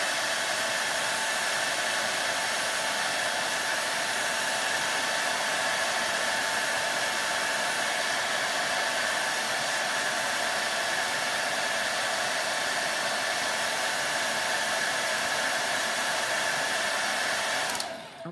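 A hair dryer runs steadily at close range to dry freshly applied paint on a pipe box craft, a continuous loud whir that holds for about eighteen seconds before cutting off abruptly.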